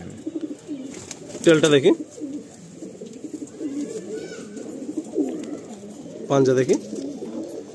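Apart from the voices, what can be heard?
pigeons cooing in a Madrasi pigeon loft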